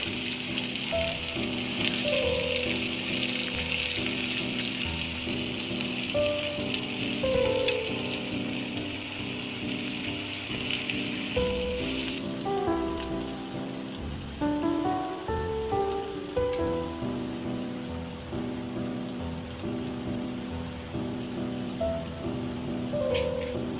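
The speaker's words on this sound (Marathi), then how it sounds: "कांदा घालून घ्यायचे तेलामध्ये आणि कांदा तेलामध्ये फ्राय करून घ्यायचा आहे, परतून घ्यायचं आहे व्यवस्थित." Chopped onion and curry leaves fry in hot oil with mustard and cumin seeds in a kadhai for karela bhaji. A steady, close crackling sizzle runs throughout with occasional soft clinks, and no one speaks.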